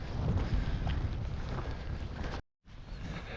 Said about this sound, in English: It's now raining hard and it's super windy